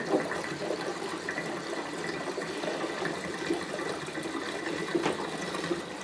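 Gasoline pours from a can into the empty tank of an Ariens snow blower, a steady close liquid gurgle and splash running for about six seconds with no talking.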